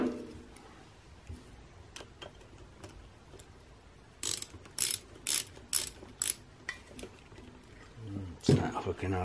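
Ratchet socket wrench, 8 millimeter, clicking in quick bursts as it turns bolts on an electric trolling motor during a rebuild, the clicks loud and close after a quieter stretch, with a voice briefly heard.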